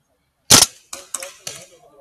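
A magfed paintball marker fires four sharp, close pops against silence: one loud crack, then three lighter shots spaced a fraction of a second apart.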